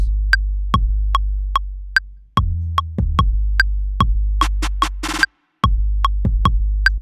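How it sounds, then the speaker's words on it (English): Electronic beat with a steady ticking pulse, deep sustained bass notes and a fast trilling snare roll bursting in near the end before a brief dropout, all loud and alone with no voices. "I also have a trilling snare right there"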